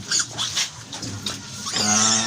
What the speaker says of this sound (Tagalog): yung ating mga piglets, sipag na silang dumede